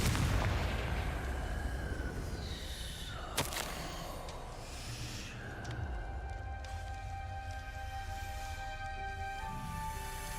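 Confringo fire spell in Hogwarts Legacy: a loud rumbling blast opens, a sharp crack follows a few seconds in, then ringing, shimmering magical tones over a low steady rumble.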